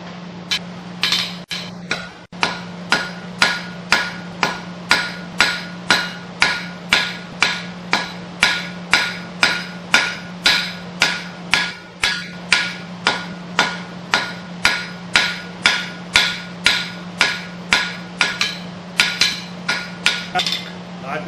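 Steady, ringing hammer blows strike hot steel on an anvil in a regular rhythm, forging a knife handle, dozens of sharp clangs over a constant low hum.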